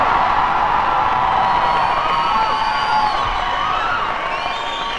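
An audience cheering and whooping at a live album recording: a steady roar of crowd voices with high shouts rising above it, loud and continuous throughout.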